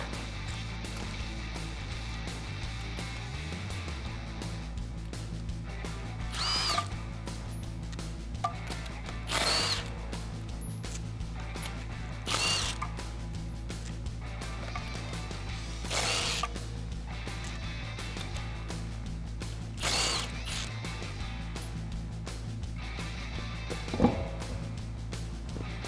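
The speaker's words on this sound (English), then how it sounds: "Now I'm going to be using a 19mm socket and my spline key." Ratchet and 19mm socket working the lug nuts off a Tacoma's wheel, a series of short clicking, whirring bursts at a steady pace over a constant low hum, fairly close.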